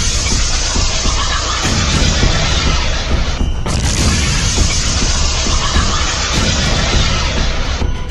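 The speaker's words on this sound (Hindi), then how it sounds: "हिजबुल्लाह के लड़ाके रमीन बैरक के पास एंटी टैंक मिसाइल फायर करते हैं और फिर होता है ये धमाका" Explosion from an anti-tank missile attack near a barracks on the Lebanon–Israel border, a loud, sustained roaring blast with crashing debris that rumbles on for several seconds, with a brief dip partway through.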